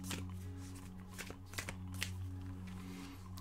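Tarot de Marseille cards being shuffled and drawn, heard as soft, brief papery rustles and flicks, close by, over a steady low background hum.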